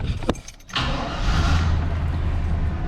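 A 1994 Cadillac Fleetwood's 5.7-liter LT1 V8 cranks briefly on a cold start, catches and roars to life, then settles into a loud, deep, rumbling idle close by.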